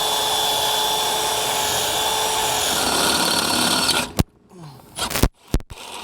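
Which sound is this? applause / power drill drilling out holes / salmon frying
power drill drilling out holes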